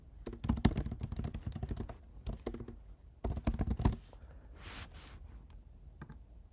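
Keys on a computer keyboard clatter in quick irregular bursts while a project name is typed, with short pauses between bursts and a few lighter, isolated taps near the end.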